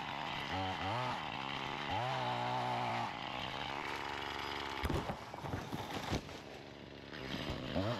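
A chainsaw revs up close, its whine rising and dropping a few times, followed by rougher cutting and crackling as bamboo stems over 15 mm thick give way.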